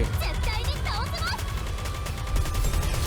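Video game gunfire rattles in a steady, dense barrage that stays loud throughout, mixed with chirping in-game effects.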